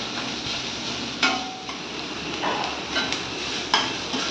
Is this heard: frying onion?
yes